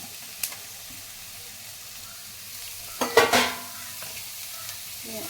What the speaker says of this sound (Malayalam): 1/4 സ്പൂൺ മഞ്ഞൾപ്പൊടി നമുക്ക് മിക്സ് ചെയ്ത് കടുക് വറുത്തതിനകത്തോട്ട് ഇടാം